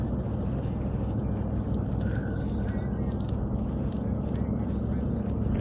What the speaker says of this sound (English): We can only hear your motor running now.